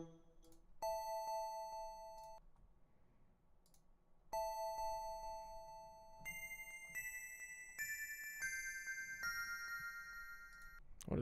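Synthesized bell tones from a Zelda music remake, bright sustained harmonic notes struck in a slow sequence of single tones and stacked chords, clear and close with no voices.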